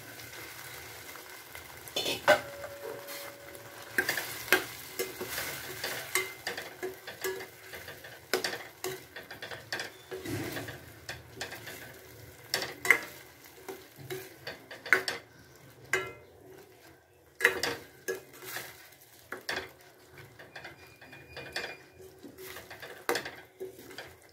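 Soybean vadi curry simmers in a pan, giving a soft, steady sizzle broken by intermittent scrapes and clinks of a spoon stirring against the metal. The cooking is close by and moderately quiet, with no talking.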